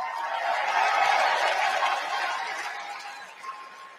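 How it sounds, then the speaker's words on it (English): Democrats in a packed arena at the United Center give sustained applause as a roaring, distant wash of clapping and cheering. It swells early and then gradually fades. "listen to the sustained applause from the Democrats at the United Center"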